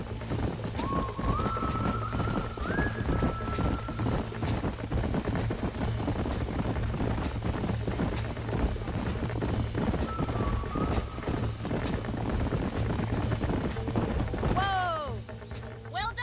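Horses gallop with a steady clip-clop of hooves in a Red Dead Redemption ranch scene, continuous and fairly loud over a low game soundscape, with a whinny near the end.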